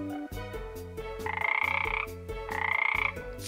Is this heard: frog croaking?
yes